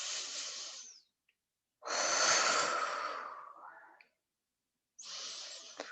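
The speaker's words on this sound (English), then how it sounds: "One more big breath." Long, airy breaths during a slow yoga flow: a steady exhale, a pause, then a deeper drawn-out breath trailing off, and another exhale starting, close and clear with no talk.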